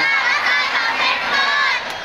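Crowd at a rally shouting together, a loud sustained roar of many voices over two seconds that eases slightly at the end.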